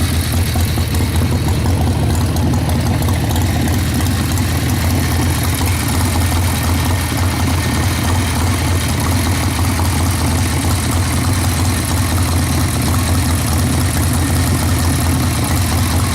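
A high-compression homebrew motorcycle engine idles while warming up after a ride, a loud, steady, close rumble with even low throbbing that holds unchanged for the whole stretch, no voices.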